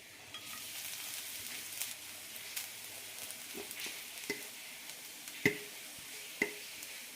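Soft, steady sizzle of grated coconut frying in a pan with a little oil, with occasional scrapes and taps of a spatula stirring it.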